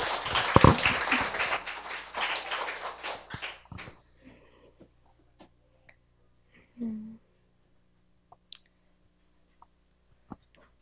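A burst of applause in the first few seconds, dense and fairly loud, then dies away to near silence with a few scattered clicks and a short thump.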